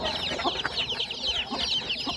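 Desi hens on a village poultry farm, one brooding her chicks, with steady high chick peeping running throughout and soft clucks scattered beneath, fairly close and continuous with no talk.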